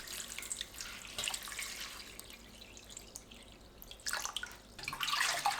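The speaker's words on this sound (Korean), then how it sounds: "겉미역에 물 넉넉하게 붓고 20분에서 30분 불립니다." Water poured over dried miyeok seaweed to soak runs and splashes into a bowl, with dripping trickles and a fuller gush near the end.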